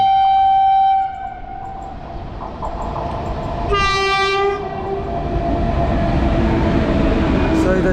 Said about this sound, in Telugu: సో ఇది వచ్చేసరికి సికింద్రాబాద్ లోకమాన్య తిలక్ దురంతో ఎక్స్ప్రెస్